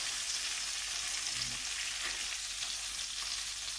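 Beef liver frying in a pan, a quiet steady sizzle with soft hissing that holds evenly throughout, with no talk.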